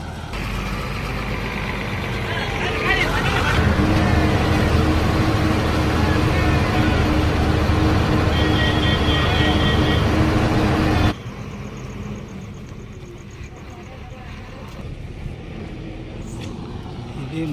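A bus engine drones steadily from inside the moving vehicle, a loud continuous low rumble with road noise that drops abruptly to a quieter hum partway through.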